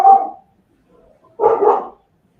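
A puppy barks twice, with a sharp yap at the start and a second louder bark after a short silence. Both are close and clear in a quiet room.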